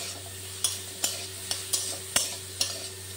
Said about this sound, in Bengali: গুঁড়োটাকে ভালো করে নাড়বো।